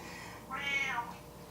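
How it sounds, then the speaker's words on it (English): A pet cat gives one short, rising-and-falling meow, fairly faint and close, over a quiet room background. "That noise you hear is Abby. He's a Yenta"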